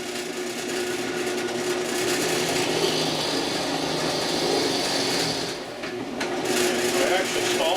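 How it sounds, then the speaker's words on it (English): A drill press motor runs steadily throughout with a continuous whine and rumble, loud and close, briefly dipping near the end as it stalls before resuming. "So I'm turning on the drill press."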